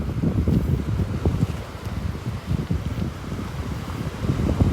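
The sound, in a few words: wind blowing at beach, a breeze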